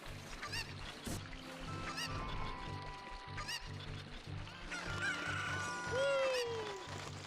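A chicken squawks in Ocarina of Time, its cackling cries mixed with layered game music, a looping beat and a rising-falling tone near the end, with no talk.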